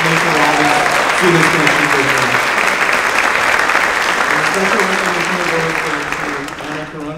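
Audience applause fills a school awards night hall, loud and steady throughout with dense clapping, while a speaker's voice talks over it and the clapping eases slightly at the end.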